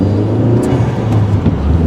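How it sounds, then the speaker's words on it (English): A 2014 Chevy Cruze 1LT RS with a manual clutch, driven on back roads on a cold morning, gives a steady, loud engine and road drone from inside the cabin with slight swells in pitch. "Clutch is a little chattery when it's cold like right now."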